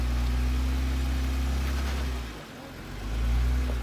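An off-road vehicle on slickrock near Moab, Utah, revs its engine in a strong, low rumble to crawl up a rock ledge, dipping briefly before surging again; no one talks.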